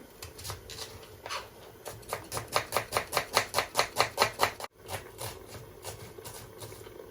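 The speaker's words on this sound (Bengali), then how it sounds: "এখন পেঁয়াজও কাটে নেই।" A knife chops onions on a board in a quick, even run of crisp taps that speeds into a tight burst, stops briefly, then resumes more loosely.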